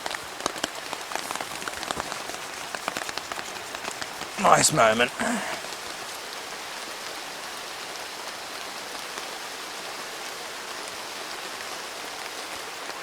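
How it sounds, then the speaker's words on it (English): Steady rain pours down in a rainforest jungle camp, a dense even hiss of drops on surfaces throughout, with a voice briefly speaking partway through. "It's raining outside and the rain can't touch you."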